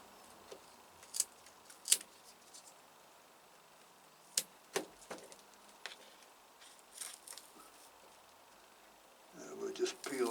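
Dry dead leaves are peeled by hand from Cymbidium orchid plants, giving faint, scattered crisp snaps and rustles in a quiet setting, with a slightly busier crackle at the end.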